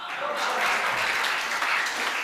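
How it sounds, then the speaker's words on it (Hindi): An audience at a Hindi comic poetry gathering claps together in a brief, steady burst of applause, fairly close and full throughout. "आप लोगों को तालियां बजानी ही होगी"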